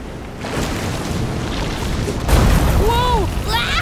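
A stormy sea in the video game Visions of Mana, with a steady roar of wind and swelling waves that grows heavier midway, rising whooshing tones riding on top.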